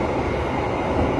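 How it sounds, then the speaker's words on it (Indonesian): A long train passes close by a railway depot near Cipinang, Indonesia, a loud, steady, continuous rumble and roar with no break. "Kita kayaknya udah melewati depo Cipinang deh, kehalang kereta nih."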